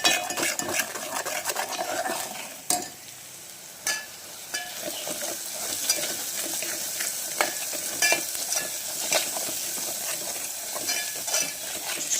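Spoon stirring a masala mixture with garam masala as it fries in a pan, a steady close sizzle broken by repeated scrapes and clinks of metal against the pan, with no talking.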